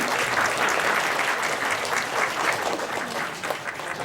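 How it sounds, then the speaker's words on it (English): An audience claps steadily for several seconds, a dense, sustained round of applause with no talking over it, at an awards ceremony for shortlisted nominees. "Please give them a round of applause."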